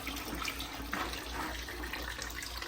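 Water rushes steadily through the clogged cooling system of a Raptor 700 ATV during a coolant flush, a continuous broadband splashing flow, close and fairly loud, with no talking.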